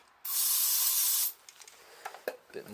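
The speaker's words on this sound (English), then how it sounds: "Bit of carb cleaner." An aerosol can of carb cleaner sprays in one steady hissing burst for about a second, then stops, followed by faint clicks and small handling noises, on a BMW F650GS motorcycle left standing for five years.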